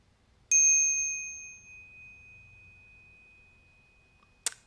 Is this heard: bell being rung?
yes